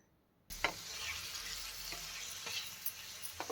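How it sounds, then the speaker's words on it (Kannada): Marinated prawns frying in ghee for a ghee roast, a steady close sizzle starting abruptly and holding, with a few light scrapes of stirring, no voices. "ಫ್ರೈ ಮಾಡ್ಕೊತಾ ಇದ್ದೀನಿ."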